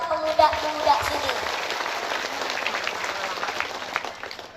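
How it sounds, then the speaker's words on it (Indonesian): Audience applause at an Eid halal bihalal gathering and religious talk in Indonesia, a dense burst of clapping that stays steady throughout after a brief voice at the start. "Kasih tepuk tangan semangat buat pemuda-pemuda sini."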